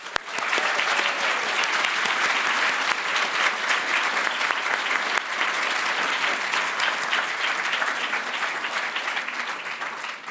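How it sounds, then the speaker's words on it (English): Sustained, dense applause fills the National Library of Australia hall for shortlisted authors and winners at the Prime Minister's Literary Awards, steady and full for about ten seconds before easing slightly. "let's take a moment to give a final, well-deserved round of applause for all shortlisted authors and our winners."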